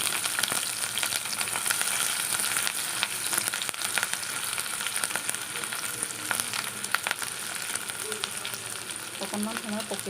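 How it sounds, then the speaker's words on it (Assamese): Chopped ginger, garlic and onion fry in hot oil in a wok, giving a steady, loud, dense sizzle that crackles throughout, with stirring scrapes toward the end. "কেৰাহীত তেল দি ৰাখিছিলোঁ। এতিয়া কাটি থোৱা আদা, নহৰু, পিঁয়াজখিনি মই ইয়াত"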